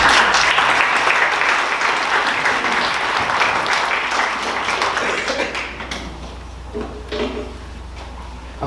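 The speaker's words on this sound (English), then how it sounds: "Let's give them a hand clap." A crowd at an African American Read-In event claps for performers, dense, loud applause filling the room from the start, then gradually thinning into scattered individual claps toward the end.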